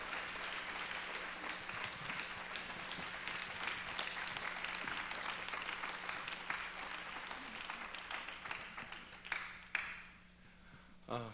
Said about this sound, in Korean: 박수로서 또 다시 한번 맞이하겠습니다